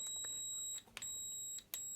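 A Brymen BM2257 multimeter sounding its continuity beep: a thin, steady high-pitched tone, quiet and clean, briefly interrupted twice as the probes break contact, then resuming.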